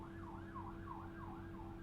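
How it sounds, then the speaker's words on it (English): An emergency vehicle siren, an ambulance or police car passing by, wails up and down in a steady repeating cycle over a constant low hum. It sounds distant and fairly faint. "Well, it could be an ambulance, actually."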